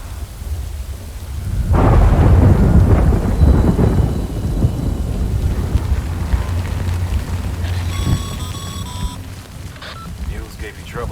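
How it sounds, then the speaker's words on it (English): A thunderstorm in the video game Death Stranding, with a loud rolling thunder crack and then steady heavy rain hissing on the ground, close and full, with a brief electronic tone near the end. "Good thing it was raining."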